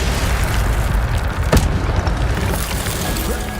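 An Incendio fire spell is cast in combat in Hogwarts Legacy, a sharp fiery burst rising out of a constant loud, booming wash of battle sound.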